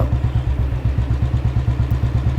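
A motorcycle engine tied to a fishing net lift on Munnakkal Beach chugs loud and close, a steady rhythmic thumping idle with mechanical clatter and no voices.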